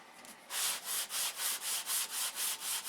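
Balsa wood worked with a DuraBlock sanding block carrying 320-grit paper, about ten steady back-and-forth rasping strokes in an even rhythm, close and clear, after a short quieter pause.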